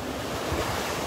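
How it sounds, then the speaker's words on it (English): Ocean surf rolls and breaks steadily on a Florida Gulf beach at Delnor-Wiggins on a windy morning, a continuous broad wash of waves with gusty wind buffeting the microphone and no voices. "Look at those waves."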